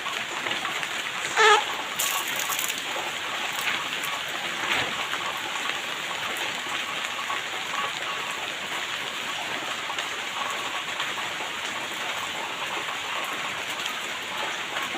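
Steady heavy rain during a typhoon in Subic, a continuous hiss of drops pattering on surfaces close by, with a brief louder knock early on and no speech.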